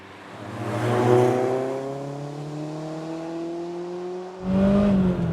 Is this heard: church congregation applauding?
no